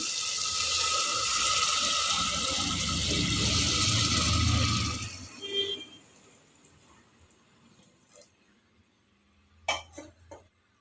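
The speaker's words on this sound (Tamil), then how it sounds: "வெறும் தண்ணி மட்டும்தான், பருப்பு தண்ணி தான் அதில் ஊற்றிருக்கோம்" Lentil cooking water poured from a vessel into a pan of wilted spinach, a loud gushing splash for about five seconds that stops abruptly, followed by quiet and a few brief clinks of a utensil near the end.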